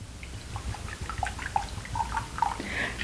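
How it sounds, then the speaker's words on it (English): Liquid poured into a drink, heard as a light trickle of small drips and splashes close by, soft and irregular over a quiet room. "I'm going to pour something in."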